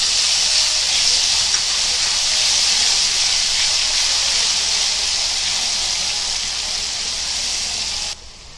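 Ginger, garlic and browned onion fry in a hot pan, a loud, dense, steady hiss of sizzling oil that runs on without a break and then drops away abruptly at the end.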